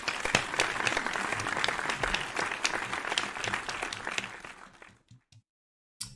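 A small group claps in a round of applause, dense and steady for about five seconds before fading out, heard fairly close.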